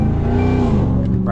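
A RAM TRX Hellcat truck's engine roars loudly at high revs from inside the cab, its pitch rising and dropping through a shift, with a voice talking briefly over it.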